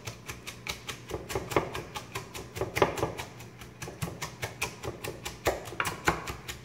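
Rapid, steady thumping of a wooden spoon pounding cabbage for sauerkraut, dozens of dull knocks in quick rhythm at close range with no talk over it.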